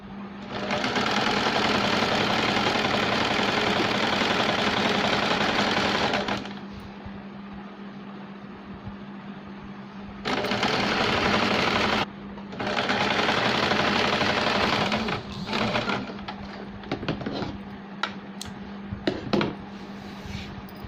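A sewing machine stitches folded frock fabric in loud, steady runs of whirring, separated by pauses, then shorter bursts and small clicks as the cloth is repositioned.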